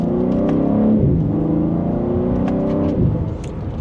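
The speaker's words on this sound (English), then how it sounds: "So let's give it another quick acceleration" A 2025 BMW M3 Competition xDrive sedan accelerates hard, its engine roaring loud and close with rising pitch and quick gear-change dips, heard from inside the cabin.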